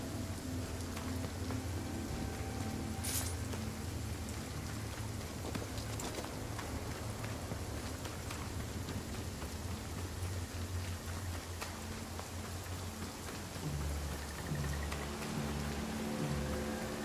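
Constant rain in the video game Banishers: Ghosts of New Eden, a dense, steady hiss of drops on surfaces with faint scattered ticks, continuing unbroken and without voices.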